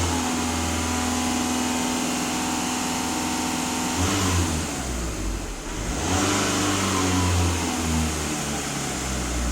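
A VW Passat B7 4×4 engine, after a DPF and EGR cleaning, idles steadily and is then revved up and down twice, with a loud close engine roar and no voices.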